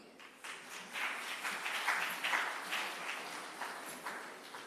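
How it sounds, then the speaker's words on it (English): Applause from the audience at a St. James municipal city hall meeting, a fairly faint, scattered patter of hands that swells and continues unevenly without talk. "You can give him a better round of applause than that"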